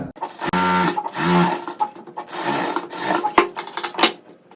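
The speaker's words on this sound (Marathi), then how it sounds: "तर बघा इथे मी आता तुम्हाला टिप मारून दाखवतो गळ्याला" A sewing machine runs stitches along a blouse neckline in short bursts of close, loud mechanical whirring, with brief pauses and handling rubs between runs and no talking.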